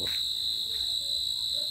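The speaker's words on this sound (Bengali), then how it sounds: "ঝিঝি পোকারা ডেকে চলেছে অনবরত।" Crickets on an autumn night in rural Bangladesh keep up a continuous high, even trill, close and steady, with faint distant sounds beneath.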